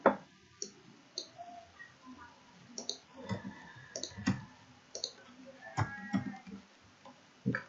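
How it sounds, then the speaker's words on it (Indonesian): Typing on a computer keyboard while writing a document in Word, a string of crisp, close clicks in uneven bursts with short pauses between them, heard alone without talk. "Tinggal ketik aja ya."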